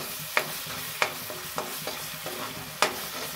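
Coriander and turmeric powder being stirred and roasted in a pan for dhaba-style matar paneer, with a steady low sizzle broken by five sharp scraping clacks of the spoon against the pan, close and alone.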